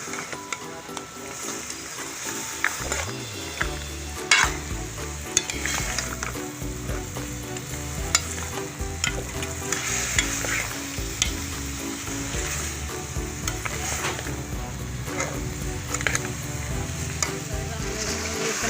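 Chicken feet and tinda sizzle and fry steadily in a pan while being stirred, a continuous loud crackle with scraping stir sounds throughout.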